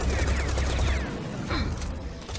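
Dense rapid gunfire from the Serious Sam 4 shooter game, a loud sustained burst of automatic shots with crackling impacts, easing off briefly midway then continuing to the end.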